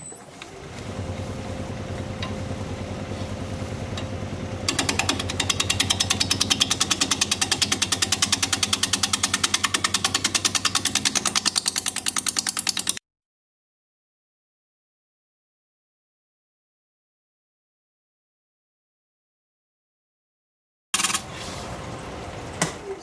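A wood lathe spins at about 600 RPM while a 5/8 inch bowl gouge cuts a rectangular winged bowl. A rough, continuous grinding drone grows louder partway through, then cuts to silence before briefly resuming.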